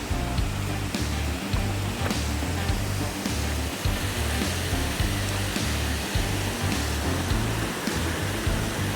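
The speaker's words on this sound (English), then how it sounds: "This is a pretty cool little waterfall spot." Steady rushing water from a small waterfall in North Carolina, a constant broadband wash that stays even and close throughout with no voices.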